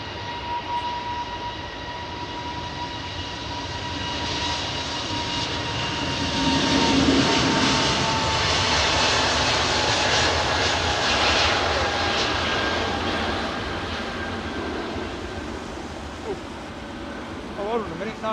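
A Boeing 777 with GE or Rolls-Royce jet engines arriving at Heathrow, a loud sustained engine roar with a rattling, clattering tone that swells and fades, with talk over it.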